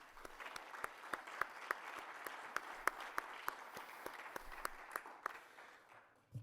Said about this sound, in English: so for Laura and Haley and Carl, how about a round of applause before we begin?